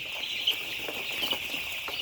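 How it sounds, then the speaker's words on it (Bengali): Broiler chickens on a farm being chased along, giving brief clucks and squawks that rise now and then over a steady high hiss of farm ambience, with no talking. "আশরাফুল ভাই মুরগিকে একটু তাড়ায় দিচ্ছেন"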